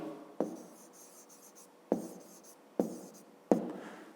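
Numbers are handwritten during a fifth-grade maths exercise, with soft, close pen scratching and four sharper taps at irregular intervals as strokes begin, quiet and without talk.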